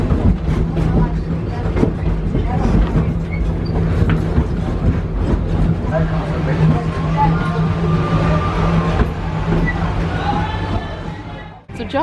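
Steady rumble and clatter of a small amusement park train at Disney's Animal Kingdom rolling along its track, with a continuous mechanical drone and faint crowd chatter in the background.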